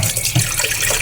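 Tap water runs steadily into a basin or container, drawn to be heated for a bath on a cold day, a continuous close splashing flow heard alone for about a second.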